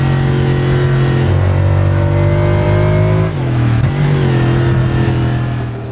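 A Lexus GT3 race car in Assetto Corsa, in engine map 3, accelerates downhill with a loud, sustained engine roar that rises in pitch, drops sharply at two quick upshifts, and keeps climbing.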